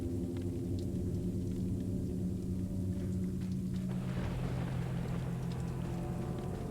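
Thunder in the Resident Evil 4 game, a low sustained rumble with steady rain-like hiss that swells and thickens partway through, continuous and fairly loud against a droning musical backdrop.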